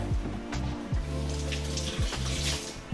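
A peeled onion is rinsed under a running kitchen tap, with a steady stream of water splashing close by. Low hum-like tones run underneath the flow.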